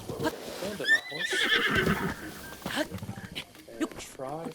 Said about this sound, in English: you'll hear a slight whinny and then its head'll buck.